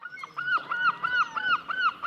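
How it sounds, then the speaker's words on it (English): Seagull cries repeat in a steady rhythmic run, about six loud, nasal, arching calls heard close and alone. "A seagull is a type of bird that lives by the sea."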